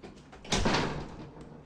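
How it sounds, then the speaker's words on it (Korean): A door opens in a horror RPG Maker game, with one near swell of sound that rises quickly and then fades over roughly a second, and no talking. "야, 문 열리는 소리야."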